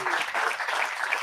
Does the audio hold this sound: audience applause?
yes